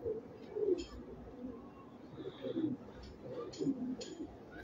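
A Lal Pari pigeon coos softly and fairly close in repeated low rolling phrases, with a few faint higher chirps from other birds in the quiet background.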